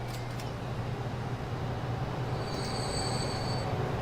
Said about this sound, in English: These trains are pretty good at getting up to speed.